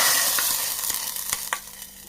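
Thickened moru curry, a coconut-free buttermilk curry, is stirred in a pot in Kerala: a close, soft bubbling sizzle fading slightly, punctuated by a few sharp spoon clicks against the pot.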